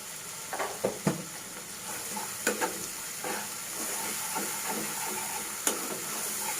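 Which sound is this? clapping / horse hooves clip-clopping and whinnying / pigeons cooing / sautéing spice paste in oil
sautéing spice paste in oil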